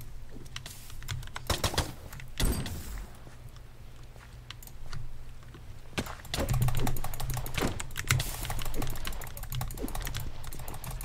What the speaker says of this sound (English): I'm just, like, spam clicking right now.